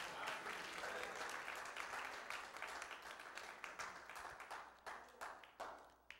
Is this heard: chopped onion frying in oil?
no